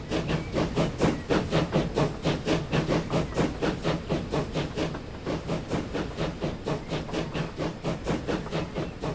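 A train rolls through in Transport Fever 2 with a steady, rhythmic chuffing beat that holds evenly for several seconds, moderately loud and alone.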